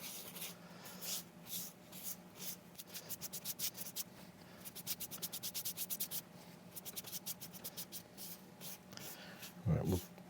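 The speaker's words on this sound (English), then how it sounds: "we'll rub this in with the lathe spinning" Abrasive paste is rubbed into turned London plane wood on a spinning lathe, giving a run of quick rhythmic scratchy rubbing strokes, near and fairly quiet, ending with a heavier thump.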